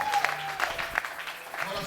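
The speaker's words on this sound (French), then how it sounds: "Est-ce qu'on peut acclamer le Seigneur?" A church congregation applauding at a Sunday service, a brief burst of scattered hand claps with a crowd murmur and voices mixed in.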